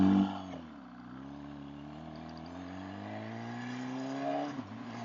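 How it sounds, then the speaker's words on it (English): A car engine hums steadily close behind a cyclist, a low continuous drone with a slight rise in pitch as it draws nearer, with no talking. "There's a car behind me."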